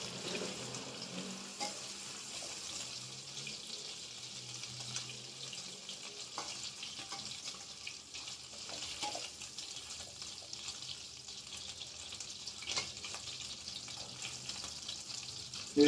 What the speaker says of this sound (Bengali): মাছগুলো আর বেশি ভেজে লাভ নেই, হয়ে গিয়েছে।